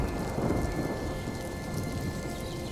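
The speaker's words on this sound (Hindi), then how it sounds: "बाहर मौसम खराब होने की वजह से तेज बारिश शुरू हो गई।" Heavy rain pours steadily while deep thunder rumbles underneath, a loud, continuous storm with no voices.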